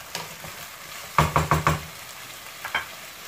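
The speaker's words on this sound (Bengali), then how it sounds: "পেঁয়াজ কুচিটা দিয়ে একটু ভালোভাবে নেড়ে কষিয়ে নেব" Chopped onions sizzle softly in a pan while a spoon knocks against it four times in a quick run, then twice more a moment later, up close and without talk.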